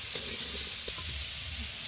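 Salt and turmeric fry in a pan for an egg and potato curry, a soft, low steady sizzle with faint stirring and no talk.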